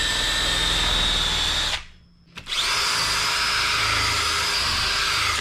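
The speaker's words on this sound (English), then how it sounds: "Now this is a brass wire brush, so it doesn't scar the surfaces as bad." A drill-driven brass wire brush scrubs a worn Yamaha XS650 cylinder head, a loud steady whirring grind that cuts out briefly and then resumes at full speed.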